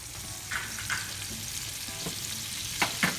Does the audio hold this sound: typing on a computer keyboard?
no